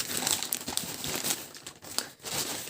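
A branded zip-lock plastic bag from a parcel crinkles as it is handled, with dense, steady rustling and crackling close up across the whole moment and no talking.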